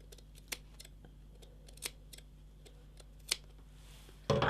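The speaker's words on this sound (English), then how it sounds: "We clip the corners and snip the curves of the armhole" Scissors snip the corners and curves of a fabric armhole on an apron dress, several sharp isolated cuts spaced irregularly over a quiet background, close by, ending in a louder rustle of handled fabric.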